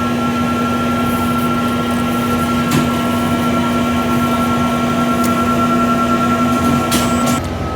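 A sublimation printer running a nozzle check makes a loud, steady mechanical hum with a constant whining tone, broken by a few faint clicks.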